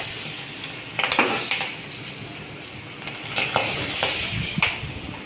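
Green and red chillies sautéing in hot oil on a home stove for dal tadka, a steady broadband sizzle with occasional stirring scrapes and clinks, close and moderately loud, no talking.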